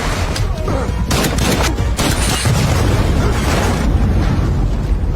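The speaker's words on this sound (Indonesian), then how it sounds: "terkena ledakan mobil van yang ada di sana" A loud, continuous roar of a van exploding in a film, explosive blasts and crackling bursts, dense and rumbling throughout like a fiery detonation at close range.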